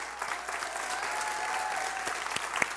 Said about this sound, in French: Et applaudissez Thibaut, s'il vous plaît,